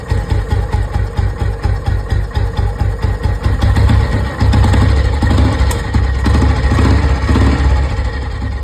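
Royal Enfield Electra motorcycle engine idling steadily after a tappet tick adjustment, a loud continuous thumping run with a rapid even pulse, slight shifts in tone partway through and no talking.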